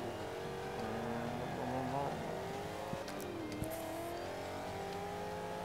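A race car in Forza Motorsport 5 drones steadily, its engine pitch rising and falling through gear changes, with a couple of short sharp transients, heard alone and fairly quiet.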